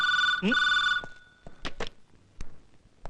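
A telephone rings in a Malayalam comedy film scene, a loud electric bell trilling for about a second before being cut off, followed by a few sharp knocks and thuds as the receiver is handled.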